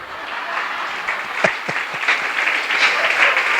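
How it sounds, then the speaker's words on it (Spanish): Church congregation applauding during a sermon, a steady wash of many hands clapping with a few sharper close claps, building slightly in intensity over a few seconds. "Dale un aplauso al Señor."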